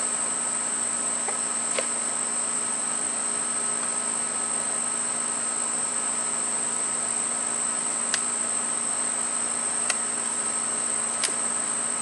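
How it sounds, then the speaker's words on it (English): Honeybees swarm around an open beehive during a hive inspection, giving a steady, even drone that holds unchanged throughout with no voices. "plenty of bees down here."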